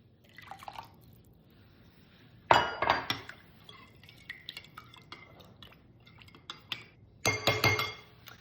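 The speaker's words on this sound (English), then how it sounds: "And now I'm going to add the wine." Wine goes into a pork tenderloin marinade in a glass dish, with two short bursts of splashing and glassy clinks separated by quiet kitchen sounds.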